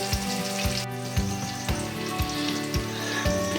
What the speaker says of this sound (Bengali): পেঁয়াজগুলো ভাজা ভাজা হতে থাক।